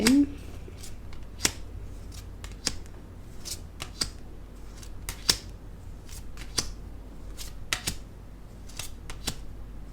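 A tarot deck is cut and handled close by: soft, sharp card snaps and flicks fall at irregular intervals over a quiet room tone, each one brief and crisp.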